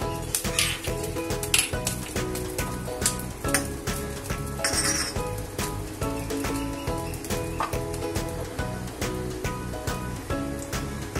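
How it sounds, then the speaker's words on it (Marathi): Cashews fry in ghee in a small tempering bowl, a soft sizzle running under repeated metallic clinks and scrapes of a spoon stirring against the vessel. "हे आपले हे काजू आहेत, आपण त्याच्यामध्ये परतून घेणार आहोत"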